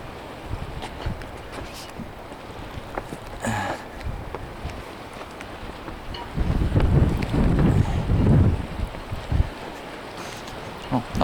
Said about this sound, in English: I was kind of hoping the waves were a lot bigger.